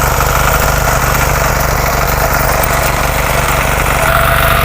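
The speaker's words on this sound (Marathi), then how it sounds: "ट्रॅक्टर चालतं हे हो बघा" A tractor engine runs while ploughing a field on a Konkan farm, a loud, steady, close-up drone with constant low rumble and vibration and no pauses.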